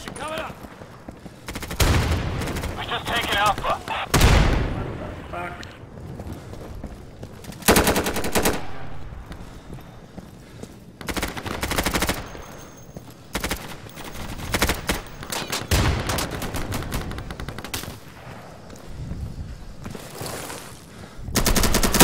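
Shotgun blasts in the video game Insurgency come as loud, sharp, broadband shots spread irregularly through a busy firefight, with other gunfire and some voices in the mix.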